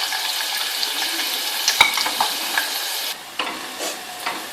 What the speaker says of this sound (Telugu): ముందుగా నూనె వేడి చేసి ఉల్లిపాయలు, పచ్చిమిర్చి దోరగా వేయించుకోవాలి